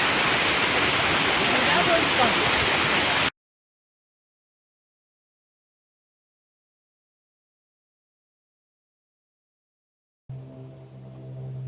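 Middle Creek Falls on the South Prong of Middle Creek in Pisgah National Forest, North Carolina, gives a loud, steady roar of falling water for about three seconds. Silence follows, then a voice speaks briefly.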